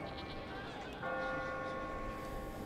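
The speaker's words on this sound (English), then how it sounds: "The bloody church bell is too loud" A church bell rings loudly in the Catherine puzzle game. Its sustained, resonant tones swell partway through and ring on steadily, with no talking over it.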